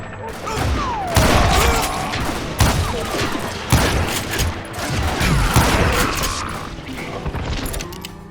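Gunfire in the Western shooter game Call of Juarez: Gunslinger, with loud repeated shots and booming impacts in rapid, uneven bursts, dense and close throughout.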